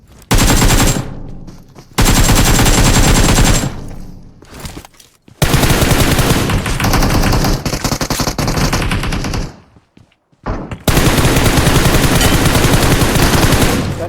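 Rapid automatic gunfire in PUBG Mobile on the Erangel map, loud sustained bursts of machine-gun fire broken by short pauses, repeating several times.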